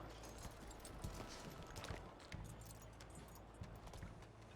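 Horse hooves clip-clop steadily in Red Dead Redemption 2, a group of four horses moving together, with a regular rhythm of soft thuds over a dense outdoor game ambience.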